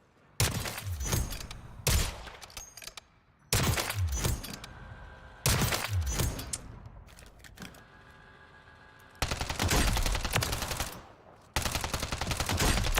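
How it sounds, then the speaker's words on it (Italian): Bursts of rapid automatic gunfire from the video game Call of Duty: Warzone (Modern Warfare III Season 1), several volleys of sharp shots separated by short pauses, loud and close, with no voices. "hanno cambiato i suoni, gli spari delle armi, non è male"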